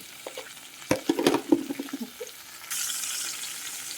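Urad dal and chana dal sputter in hot oil for a tempering, with scattered crackles and stirring clatter early, then a steadier, brighter sizzle takes over near the end; no voices.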